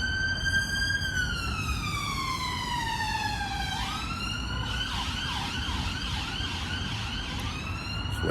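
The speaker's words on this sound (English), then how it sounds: "Just wait for that ambulance to pass." An ambulance siren wails past, its pitch sliding steadily down as it passes and then settling into a repeating warble, loud and continuous over steady road noise.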